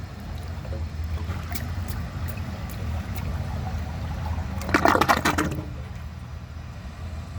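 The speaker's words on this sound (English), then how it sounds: "A good bit of water is actually flowing through those priming jets," Water flows steadily through the priming jets of a 1937 Standard Madbrook toilet during a flush test, a low continuous rush with a brief brighter splashing burst midway.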